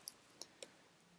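Several faint, quick computer mouse clicks spaced irregularly across a quiet moment, each a sharp tiny tick while someone works in a website page builder.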